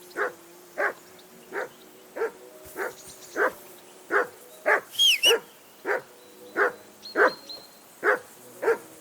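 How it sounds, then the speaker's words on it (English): Video game dog from Kingdom Come Deliverance 2 barking steadily, around fifteen loud, close, evenly paced barks with a brief higher yelp midway, alone without talk. "I assume you can hear that damn dog of yours barking."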